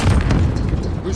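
A grenade detonates in Call of Duty: Modern Warfare multiplayer on a Hardpoint match, a dense low boom with no clear onset, thick with game noise from start to end.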